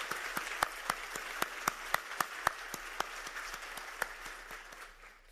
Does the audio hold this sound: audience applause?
yes